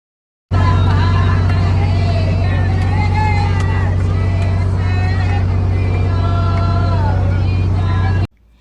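A motorboat engine drones loud and steady on a river crossing to Umananda Temple in Guwahati, starting abruptly and cutting off after about eight seconds, with voices mixed into the hum.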